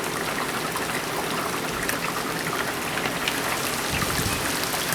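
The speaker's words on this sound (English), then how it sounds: "So somewhat heavy rain is falling again." Heavy rain falls steadily, filmed through an open window during an August storm, a dense close hiss of drops spattering on surfaces that holds constant throughout with no voices.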